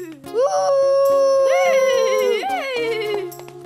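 A voice imitates a wolf howl in one long wavering cry that rises, holds, then trails off.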